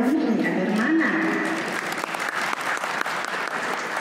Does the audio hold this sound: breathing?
no